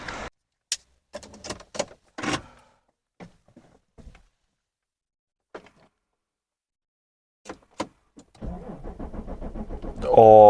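A Renault diesel truck engine cranks at length near the end with a rhythmic churning before catching into a loud roar, preceded by scattered clicks, clunks and near silence.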